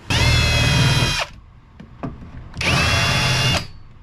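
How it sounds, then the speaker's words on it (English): A power drill with a chamfer bit cuts into a fiberglass boat helm on a C-Dory TomCat in two loud, close bursts of about a second each, separated by a short pause with faint clicks. "I have a chamfer bit next."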